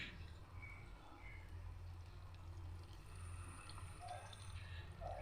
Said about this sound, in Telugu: ఇప్పుడు మనం ముందుగా నానబెట్టుకున్న చింతపండు రసం తీసుకొని వేద్దాం